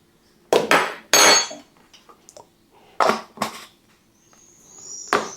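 A utensil scrapes and clinks against a container while mixing a Vaseline and clove powder blend, a few sharp separate knocks and scrapes with quiet gaps between them.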